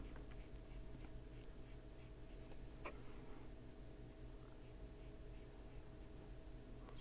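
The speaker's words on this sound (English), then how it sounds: "I'm going to go over all this with pencil" A pencil colors over hair strands on paper in an adult coloring page, a faint continuous scratchy rubbing with soft repeated strokes, close and quiet with no talking.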